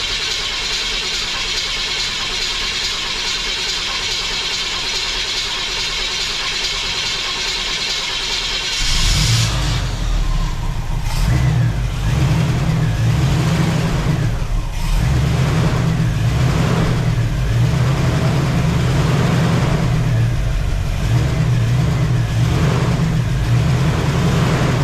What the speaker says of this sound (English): we're going to have to wait for the pump to fill up the carburetor, and hopefully it'll start